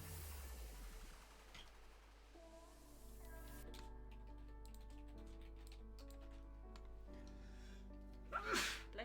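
A sharp, brief sneeze bursts out near the end of a calm art livestream, rising above a steady backdrop of soft tonal background music and faint clicking.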